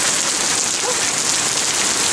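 Steady rain falls and patters across a surface in an outdoor setting, a continuous even hiss with no other sounds and no voices.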